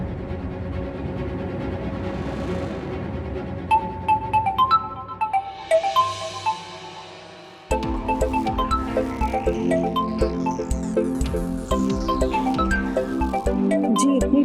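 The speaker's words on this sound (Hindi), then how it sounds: "जी, इतनी रात को किसका फोन आ रहा है?" An electronic phone ringtone plays a repeating melody of bright tones, shifting partway through into a fuller, busier ring.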